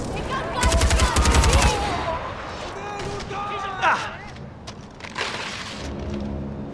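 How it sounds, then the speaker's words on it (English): Machine gun nests firing in Far Cry 4, a loud rapid burst of automatic fire early on, followed by scattered shots and impacts while voices shout over the battle. "do something about those machine gun nests!"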